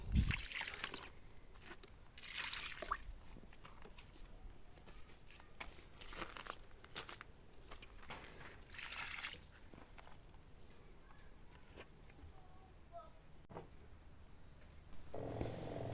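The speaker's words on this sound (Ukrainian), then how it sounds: "і зразу зверху ще трошечки водички залию, щоб воно скоріше впиталось" Water is poured from above onto the soil around a hydrangea, giving faint, intermittent splashes and trickles that come in a few short bursts over a quiet background.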